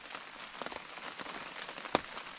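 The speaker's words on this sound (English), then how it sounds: "You can see or hear it is pouring rain." Heavy rain pours steadily onto a hunting blind during a deer hunt, a dense, constant patter with one sharp louder drop-like tap near the end and no talking.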